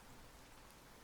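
Soft, steady rain hisses evenly throughout, faint and continuous with no distinct drops or voices.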